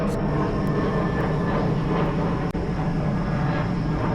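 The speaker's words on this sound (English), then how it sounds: "We got a little A319 up there, too." An Airbus A319 passes overhead beside a hotel pond, a steady broad roar of engine noise that stays fairly loud and constant throughout, with one brief click partway through.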